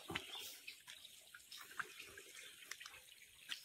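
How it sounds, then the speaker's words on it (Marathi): A natural spring on a hillside, its water channeled near a built well and tank, flows in a faint, continuous stream with small splashes and gurgles. "हे असं वरून पाणी येतं"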